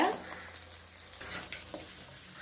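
Mushroom masala with torn fried pieces being mixed in a pan, a soft sizzle with a few brief stirring scrapes, short and fairly quiet.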